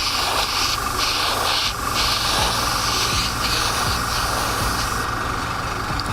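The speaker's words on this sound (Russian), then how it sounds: "Вот, видите, какой четкий, распыляется очень интересно." Airbrush spraying Pacific88 Aero series acrylic paint, a continuous hissing spray heard up close, pulsing in short bursts over a steady compressor hum.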